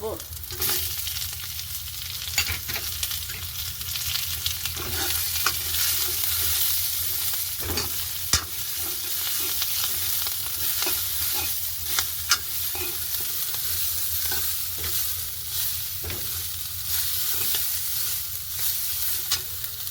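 Large-cut onions sizzle steadily in hot tempering oil for a Sri Lankan varai, with repeated scraping stir strokes of a spoon sounding close and clear throughout.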